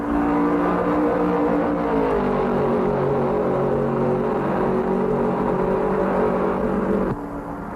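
Richard Petty's Plymouth NASCAR Cup race car at full throttle, a loud, steady engine roar that dips slightly in pitch as it pulls away, with a sudden drop in level near the end.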